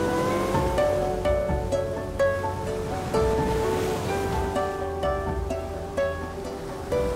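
Surf rolls steadily onto a Konkan beach at Medha Nivti near a fishing village on a calm morning, a continuous near wash of waves with a faint engine hum underneath and no voices.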